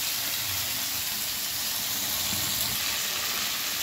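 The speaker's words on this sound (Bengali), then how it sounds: "একদম আঁচটাকে সিম করে আমি 10 মিনিট ভাজা করব।" Potatoes and cauliflower frying in a pan on low heat, a steady soft sizzle and hiss with faint crackle throughout, no talk.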